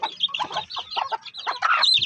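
Brahma chickens clucking and chattering up close, a busy run of short, overlapping calls with no talking.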